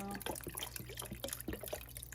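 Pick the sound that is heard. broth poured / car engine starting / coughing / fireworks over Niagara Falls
broth poured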